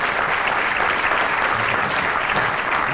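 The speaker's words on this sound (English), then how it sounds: "Massive round of applause, London." A banquet audience at a charity gala dinner in London breaks into loud, dense, sustained applause that fills the room.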